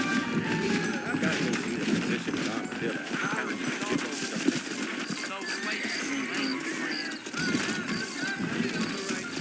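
Horses clip-clop along in Red Dead Redemption, a steady patter of hooves running beneath continuous dialogue and game ambience throughout.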